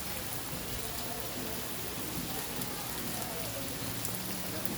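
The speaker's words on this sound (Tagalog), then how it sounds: "It's rainy day." Steady rain falls through a rainy afternoon, a dense continuous hiss of drops on surfaces with no breaks, moderately loud and even throughout.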